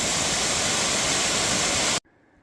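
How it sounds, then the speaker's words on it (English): Steady roar of a waterfall along the trail up Katahdin on the Appalachian Trail, loud and close, a full wash of rushing water that cuts off abruptly near the end. "some beautiful waterfalls on the way up to Katahdin"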